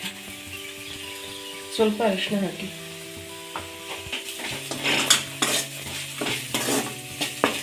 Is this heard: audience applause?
no